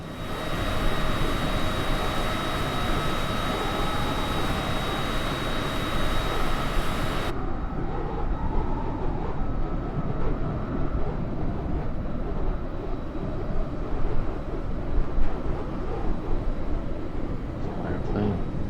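A steady, loud airplane engine drone from MS Flight Simulator 2020 as an aircraft tracks Hurricane Ida on approach to a small runway. The roar is continuous, with brighter high end early on before it turns duller.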